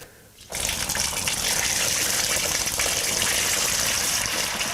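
Beer wort for a double IPA poured through a colander into a fermenter, starting suddenly as a loud, steady gushing splash of liquid that continues without pause.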